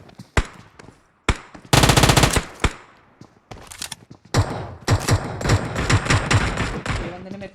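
Micro Uzi gunfire in the PUBG video game, rapid automatic bursts mixed with single loud shots and thuds, close and dense, in repeated volleys with brief gaps between them.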